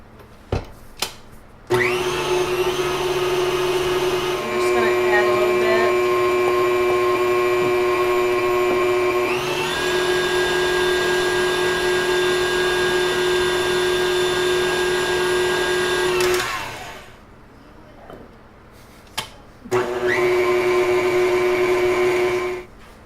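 An electric mixer beats a sugar mixture in a large bowl, a loud steady whine that holds for long stretches, pauses briefly, then starts up again.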